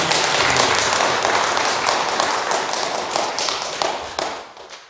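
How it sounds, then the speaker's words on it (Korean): Sunday-service congregation at a Busan church applauding the choir, a dense, loud round of clapping that holds steady for several seconds before fading out at the end. "우리 찬양대하고 다 열심히 하라고 그냥 박수 한번 쳐드리겠습니다"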